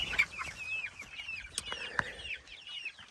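Chickens cluck and squawk in a barnyard at feeding time, with short overlapping calls and a few sharp peeps close by, under light rain.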